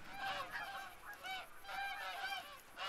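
Geese flying overhead honk repeatedly in a loose, overlapping series of calls, fairly near and clear, with no talk over them.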